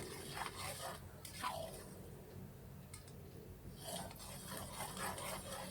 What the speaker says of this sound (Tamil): 1 ஸ்பூன் மஞ்சத்தூள், ஒரு கைப்பிடி அளவு கல்லுப்பு சேர்த்து நல்லா மிக்ஸ் பண்ணிடலாம்